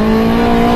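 A Honda Prelude SI engine revs hard into VTEC, a loud, close, sustained high-pitched mechanical wail with a strong steady tone.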